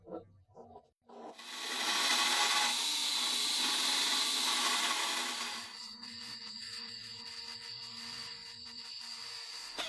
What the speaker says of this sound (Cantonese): 將錘仔多餘嘅部分鋸走